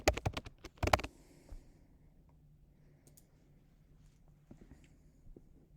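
Computer keyboard typing, a quick cluster of close, sharp key clicks at the start, then a few sparse, faint taps over a quiet background.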